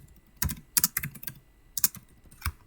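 Computer keyboard keys tapped in short irregular bursts, a handful of quick clicks with brief pauses between, close and fairly crisp, with no talking.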